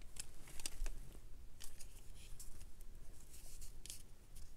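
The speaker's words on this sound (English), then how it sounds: "let me just go ahead and trim this to round it" Scissors trim the corner of a thick paper tag, giving a few quiet, close snips with soft rustling and no talking.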